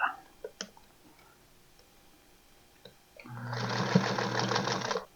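A sewing machine runs in a steady mechanical whir while backstitching a short seam on a scrap dahlia quilt, starting after a few light clicks and running close and loud alone for about two seconds.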